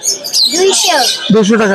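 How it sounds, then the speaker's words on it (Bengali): Birds chirp and tweet at a busy pet bird market in Mirpur 1, with bright, close calls mixed in among people talking nearby. "আজকে চমৎকার অনেক পাখি আছে"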